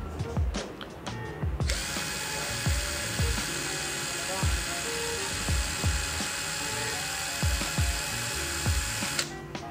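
Tolsen FX 79028 cordless drill spun up to full speed, a steady high-pitched whine starting abruptly after a couple of seconds and cutting off near the end, with a faint speaking voice and soft taps underneath.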